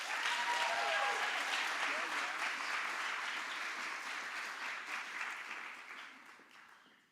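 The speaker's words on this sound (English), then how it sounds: "Can we please give Yash a huge round of applause?" Audience applause at a TEDx talk, steady clapping filling a hall that holds loud for several seconds, then gradually thins and fades toward the end.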